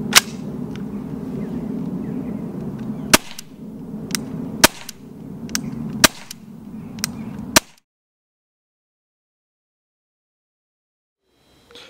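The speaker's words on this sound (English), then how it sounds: "plinking away in the back garden, there is no finer way to do it than with the Walther CP99 air pistol" Repeated shots from a Walther CP99 CO2 air pistol while plinking in a back garden, sharp cracks spaced about a second apart over outdoor background noise, then abrupt silence.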